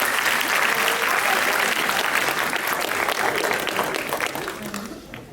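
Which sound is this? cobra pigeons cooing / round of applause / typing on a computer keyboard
round of applause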